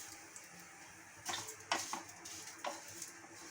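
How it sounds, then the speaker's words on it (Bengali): Vermicelli frying in ghee, a soft steady sizzle with a few sharper scraping stir clatters near the middle, faint and close, no voices. "সিমুইটাকে ঘিতে ভাজবেন"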